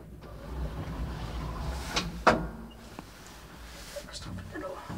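Doors of a 1979 Valmet traction elevator, modernised with KONE parts, sliding with a soft rumble and a couple of sharp clunks mid-clip, heard close under low background hum while people speak quietly nearby.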